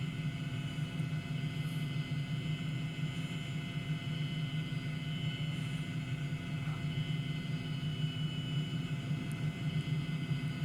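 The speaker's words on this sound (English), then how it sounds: "Oh, I hear a jet." Jet aircraft flying at a distance, a faint, steady low rumble with a broad airy hiss that holds constant throughout, with no voices over it.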